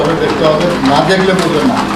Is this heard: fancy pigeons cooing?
yes